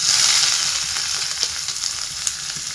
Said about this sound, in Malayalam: ഇനി നമുക്ക് ഈ ഉള്ളി ഇട്ട് വെക്കാം.